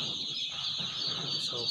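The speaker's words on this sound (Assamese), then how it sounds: "এইটো হৈছে অৰিজিনেল ইণ্ডিয়ান ৰানাৰ হাঁহৰ পোৱালি" Indian Runner ducklings give steady high-pitched peeping, a dense continuous chorus of chicks close by, with low background rumble and no talk.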